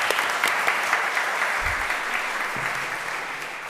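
An audience at a newsroom talk gives a round of applause, a dense, steady clapping from a moderate-sized crowd lasting the whole stretch with no voices over it.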